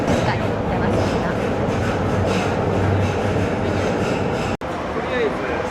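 A Monterrey subway train pulls away quietly, with a steady low rumble and soft rail clatter filling the car while faint voices murmur underneath.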